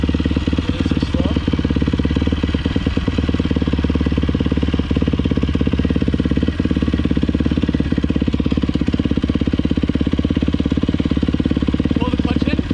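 A dirt bike engine runs steadily during a riding lesson, a loud close rapid chugging with a constant throb and slight revving, while people talk over it.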